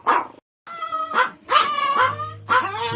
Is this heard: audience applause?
no